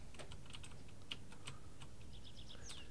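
Quiet typing on a computer keyboard, a loose run of light key clicks with uneven gaps, close but faint, with no voices.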